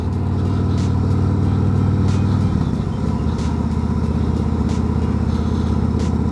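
A 2024 Harley-Davidson Road Glide 3 engine runs steadily and loud, its low throbbing note dropping in pitch around midway as the bike shifts up a gear, then carrying on at a steady drone with faint wind noise over it.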